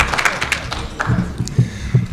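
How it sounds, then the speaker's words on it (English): Scattered, thin clapping from a small audience at a Yakima Rotary Club meeting, a few uneven claps close by that quickly thin out. "That was kind of weak applause."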